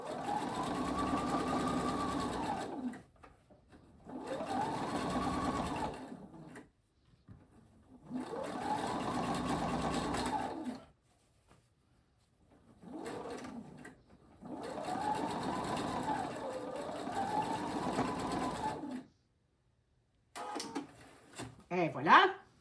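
A sewing machine stitches a continuous fabric bias tube in several steady, close bursts separated by short pauses, the last run ending in a few quick, uneven stitches.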